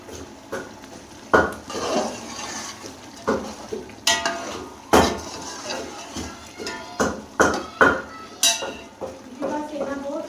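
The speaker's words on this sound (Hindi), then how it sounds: "सब्जियों की हमने अच्छे से भुनाई कर लेनी है" Vegetables and potatoes being fried and stirred in a metal pot for vegetable pulao, with repeated loud spoon scrapes and clanks against the pan over a low sizzle.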